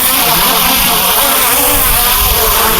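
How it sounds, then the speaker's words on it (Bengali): A high-quality camera drone descends to land outdoors, its rotors making a loud, steady, dense whine and roar close by that persists without a break. "তো চলো ড্রোনটা এবার ল্যান্ডিং করাই।"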